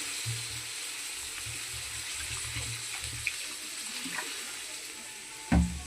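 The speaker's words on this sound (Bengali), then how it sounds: "এবার আমি জল দিয়ে দিলাম।" Water pours into a hot pan for a rohu fish curry, a faint steady hiss with light sizzling and a few soft clinks, ending in a brief louder clatter.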